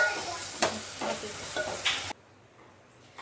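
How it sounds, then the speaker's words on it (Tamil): Spinach greens cooking in a pan give a soft continuous sizzle with a few brief stirring scrapes for about two seconds, then the sound drops away to near quiet. "நல்லா கீரை வேகட்டும்."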